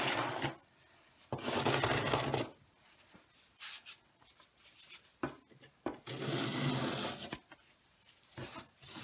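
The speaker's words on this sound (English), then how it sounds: "one more scraping just to get off what we can, get off the majority" Scraping excess grout off a tile mosaic comes through as bursts of close, gritty rubbing and rasping, with quieter pauses and small knocks between strokes.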